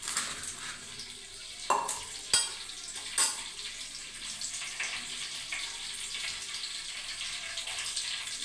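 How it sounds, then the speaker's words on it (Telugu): Onions and green chilies frying in hot oil for a gongura fish masala curry, a soft steady sizzle with a few sharp clinks of a utensil near the start, no talking. "ఆయిల్ వేడెక్కాక ఉల్లిపాయలు వేసుకున్నాం. ఉల్లిపాయలు, పచ్చిమిరపకాయ ముక్కలు వేసుకున్నాం."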